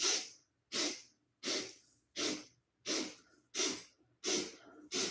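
Meditation breathing drawn in toward the crown of the head, seven long, forceful breaths through the nose in a steady, even rhythm, close and breathy, with short silences between them.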